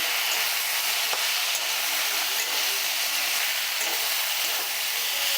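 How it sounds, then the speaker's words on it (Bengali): Cumin powder stirred into softened vegetables for a drumstick-flower chorchori in a pan, giving a steady, loud frying hiss and sizzle that runs without a break, with no voices. "জিরে গুঁড়োটা এবার সবজির সাথে খুব ভালো করে মিশিয়ে নিচ্ছি"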